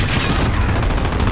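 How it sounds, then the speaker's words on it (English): Shotgun blasts in a fast online shooter game, a dense, loud, continuous burst of gunfire filling the whole short moment with no speech. "how is the shotgun reaching that fucking far?"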